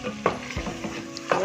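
Chicken pieces scraped and stirred in a pan of oil for Bengali chicken kosha, with a few distinct spatula scrapes over a steady soft sizzle, close and moderately loud.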